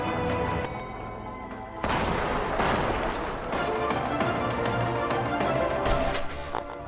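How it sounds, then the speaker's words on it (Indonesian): A thrown bomb bursts in mid-air during a war film battle between American and Chinese soldiers. Dense, loud combat noise swells into two heavy blasts, one near the middle and another close to the end. "Namun bom yang ia lempar meledak di udara."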